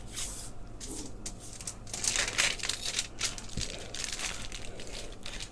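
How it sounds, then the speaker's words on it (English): A wrapper's edges are folded over several times into a tight seal, giving soft, close crinkling and rustling in irregular bursts with no talking. "I fold the edges a few times to create a tight seal"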